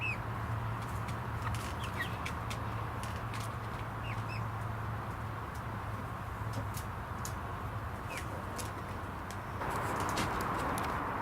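Chickens in a backyard pen walled all around with perspex, clucking and calling on and off amid a steady hum and constant ambient noise.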